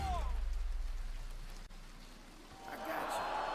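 Steady rain falls in a game trailer, a dense wash of drops that fades slightly midway and then swells louder with a brighter hiss near the end.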